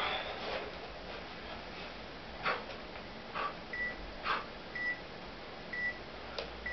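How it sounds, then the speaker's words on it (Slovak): A training app beeps on each counted click, giving short, faint tones at irregular intervals over steady hiss, mixed with a few soft clicks and taps. "Za každým, keď spravím nejaký klik, tak mi to malo pípnuť."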